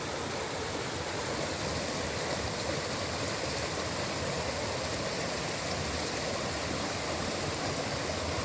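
Fresh stream water flowing in the woods, a steady, even rush of moving water that stays constant throughout with no other sounds.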